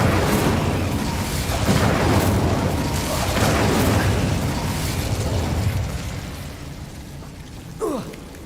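A fiery Incendio spell blast erupts in the Hogwarts Legacy video game, a loud broadband burst that rumbles on for several seconds, then fades, with a short sharp pop near the end.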